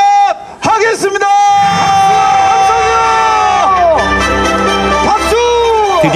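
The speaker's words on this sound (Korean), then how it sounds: "박수!" A crowd at the opening of a 2015 Korean homemade sled contest cheering and whooping loudly, a bright sustained wall of voices with shouts rising over it, continuous and close for several seconds.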